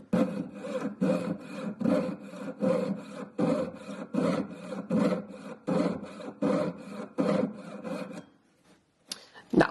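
Hand saw blade cutting through metal at a metalsmithing bench, a steady rhythmic rasp of about fifteen even back-and-forth strokes, close and clear, stopping briefly before a last scrape.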